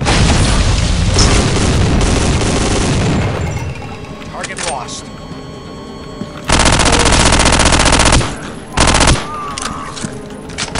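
Gunfire and blasts in the video game Soldier of Fortune 2, with a loud burst of rapid shots and heavy booms, then a quieter lull and further sharp bursts.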